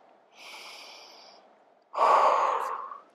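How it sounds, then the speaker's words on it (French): Two slow, deep breaths during a floor exercise sequence for the shoulders, a softer inhale followed by a louder, breathy exhale through the nose, close and alone. "J'appuie mes avant-bras. Je respire. 2 fois."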